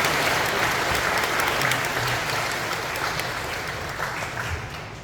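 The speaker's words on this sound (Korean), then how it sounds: "우리 모두 수고해주신 추진준비위원회 위원님들께 박수 한번 쳐드립시다" Audience at a residents' briefing on a redevelopment project applauds the preparation committee members, a dense sustained burst of clapping from a sizable indoor crowd that slowly tapers off.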